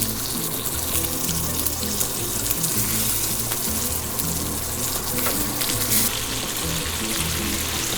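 Tomatoes frying in oil, a dense, loud, hissing sizzle that holds steady and close for the whole stretch, with no talking.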